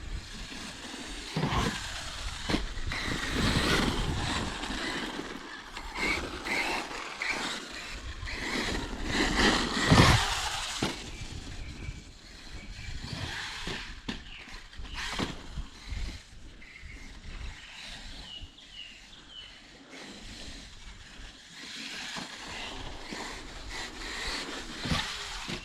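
A Kyosho FO-XX VE2 radio-controlled short course truck on BFGoodrich tires drives steadily, its noise rising and falling in rough, gritty surges with a louder burst near the middle, no voices.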